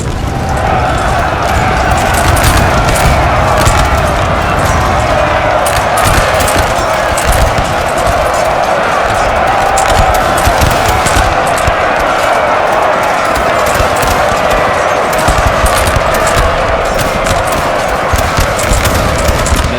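Napoleon: Total War multiplayer battle at Borodino, with musket volleys crackling continuously through a loud, dense battle din of massed fire and crowd noise, steady throughout.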